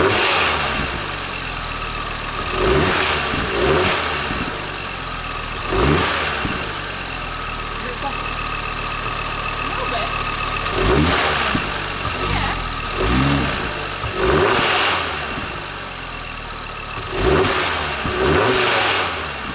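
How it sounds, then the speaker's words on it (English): An Audi RS3 8P with its stock airbox idles, then revs in a series of sharp throttle blips, about seven short rises that fall back to idle, heard close and alone. "I'm going to show you what the stock airbox sounds like"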